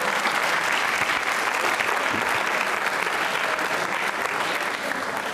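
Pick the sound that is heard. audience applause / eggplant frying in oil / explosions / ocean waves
audience applause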